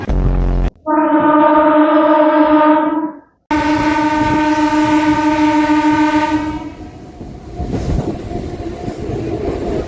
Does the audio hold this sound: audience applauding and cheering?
no